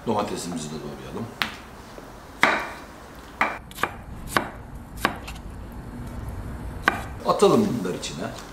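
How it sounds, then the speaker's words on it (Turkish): Scattered knife chops on a cutting board as tomatoes are cut, a handful of separate sharp knocks spaced out irregularly, with some background handling noise. "Domatesimizi de doğrayalım."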